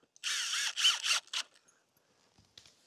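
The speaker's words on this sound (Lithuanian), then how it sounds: "Įsisukam iš kartą porą varžtukų" A cordless power drill drives a couple of screws into a wooden board in quick whirring bursts, close and clear, each burst rising in pitch then stopping, followed by a faint click and quiet.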